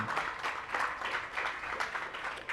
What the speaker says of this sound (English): So we need to give a round of applause to Dr. Dev and his team.